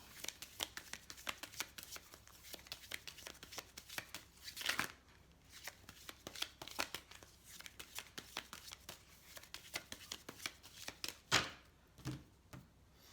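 Oracle cards being shuffled by hand, a long run of quick papery riffles and slaps with a few louder bursts, close and steady, with no talking.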